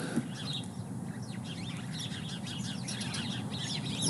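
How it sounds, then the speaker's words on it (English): Birds chirp and twitter outdoors at a ranch in winter, a busy mix of faint calls over a soft, steady wash of ambient noise, with no talking. "the birds are really active over here"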